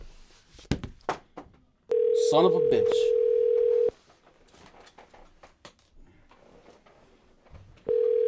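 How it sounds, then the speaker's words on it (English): A telephone call goes out and the line rings, with long steady tones and a gap of silence between them. A person speaks briefly in a close voice before the tones begin. "So let's hope that these people answer the phone."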